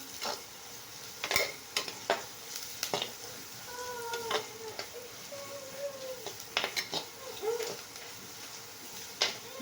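Carrot poriyal is sautéed in a pan with intermittent stirring scrapes and clacks of a spoon against metal over a soft, low sizzle, close by, with no speech.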